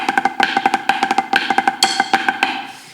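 Rapid snare drum flam drags with loose, spread-out grace notes played too open, a steady stream of crisp hits played close with no talking.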